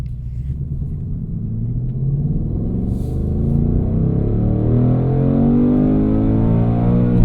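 A 2025 Ford Mustang Dark Horse V8 drives in normal mode, a deep, loud, close engine rumble that swells steadily as the car picks up speed, heard from inside with no talking.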